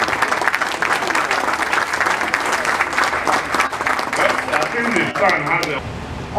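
A crowd at a political speaking event applauds with thick, continuous clapping that thins slightly near the end, as a few scattered voices surface briefly beneath it.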